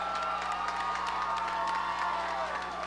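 An arena crowd at a V3Fights event cheers and applauds both fighters after a bout, a continuous roar of voices and clapping with scattered shouts, loud and sustained over a low electrical hum.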